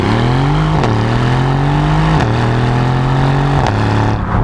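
A Mercedes-AMG GLC 63S engine pulls hard under acceleration, its loud, close drone rising steadily in pitch and then dropping sharply at each of three quick upshifts.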